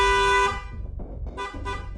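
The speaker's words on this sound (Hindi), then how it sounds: "इसलिए मैंने लगातार हॉर्न बजाया।" Car horn honking on a road, one long loud blast followed by several shorter repeated toots, close and prominent with traffic rumble underneath.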